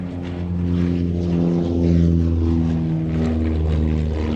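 A Gemini light twin-engine aircraft flies past at a countryside airshow, its propeller engines giving a steady, droning hum with layered tones, moderately loud and swelling slightly as it passes, with no one speaking.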